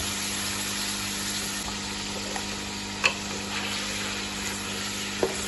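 Chicken korma, Peshawari style, frying over a high flame: a steady, close, even hiss of hot oil with a few sharp pops and clicks, no voices.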